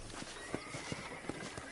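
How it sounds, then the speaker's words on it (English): A horse walking in the Western video game Red Dead Redemption, its hooves clip-clopping in a steady, evenly spaced rhythm of soft thuds over a constant background ambience. "I picked out a fine horse for you."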